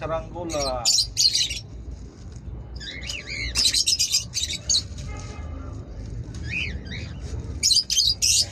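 Birds squawk and chirp in loud, sharp bursts, several calls clustered close together with brief pauses between them.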